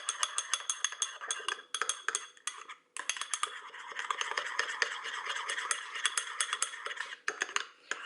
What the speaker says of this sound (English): Then mix all together.